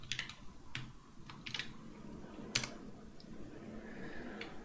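Faint, scattered keystrokes on a computer keyboard while coding at a console, a few sharp clicks spread irregularly over a low room hiss, with no talking.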